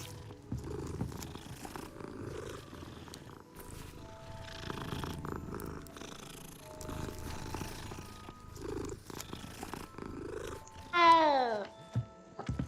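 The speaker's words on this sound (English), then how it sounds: "Cat is sleeping." A sleeping cat in the game Hogwarts Legacy purrs in a soft, steady rumble alongside game music and a few chime-like tones, ending with a brighter magical swoosh.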